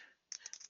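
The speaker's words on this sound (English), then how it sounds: "you just click and start typing" Quiet computer keyboard typing, a short run of four or five quick, crisp key clicks in a close, still room.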